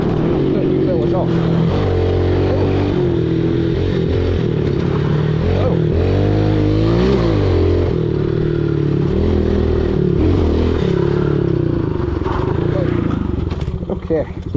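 Suzuki RM85 and 110 dirt bikes riding laps, with a loud, continuous engine drone that rises and falls in pitch as the throttle changes, close by throughout, and a person talking over it.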